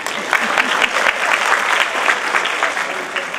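An audience at a ceremony bursts into steady, close applause, many hands clapping densely with a faint murmur of voices in the crowd.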